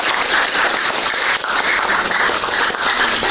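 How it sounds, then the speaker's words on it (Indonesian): Classroom applause, a dense, continuous wash of many hands clapping at once, loud and steady throughout without pauses. "Kita tepuk tangan dulu untuk itu."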